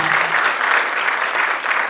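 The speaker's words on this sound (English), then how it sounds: "Let's just welcome him with a round of applause" An audience at a sanitation accountability symposium claps in a dense, steady round of applause that stays loud and close throughout, with no voices on top.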